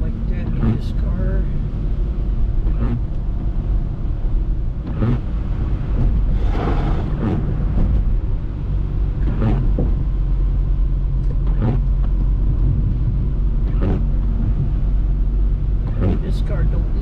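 A car rolling through flood water in the aftermath of Typhoon Mawar, a continuous low road rumble with periodic sloshing splashes and surges, while people talk inside the vehicle.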